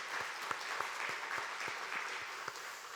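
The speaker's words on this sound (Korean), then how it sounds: "그렇게 하실 우리 하나님께 박수로 감사드리겠습니다" A church congregation claps together during a Sunday morning service, a steady soft patter of many hands with a few sharper individual claps, heard from a little distance.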